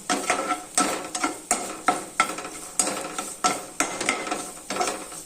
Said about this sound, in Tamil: இந்த நெய்யில் இந்த தேங்காயை வறுத்துக்கலாம்